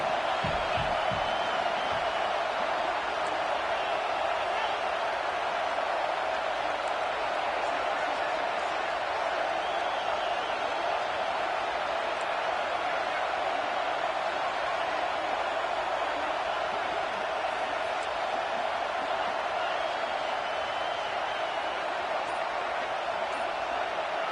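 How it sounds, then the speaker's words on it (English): A Tennessee football stadium crowd roars for its defense, a continuous dense wash of massed voices holding at a steady loud level for over twenty seconds without letting up. "This crowd rising up, sensing that its defense needs some help."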